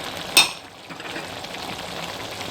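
Crushed roasted coriander and cumin go into frying keema, a brief dry tap of spices falling into the pan followed by an even, continuous sizzle.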